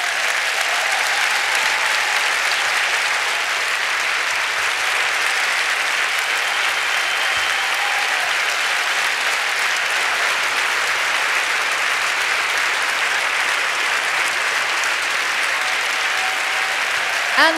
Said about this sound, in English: we'd like to applaud you and acknowledge your achievement